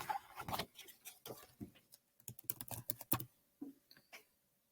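Rapid computer keyboard typing in bursts of clicky keystrokes with short pauses, close and fairly quiet, with no voices.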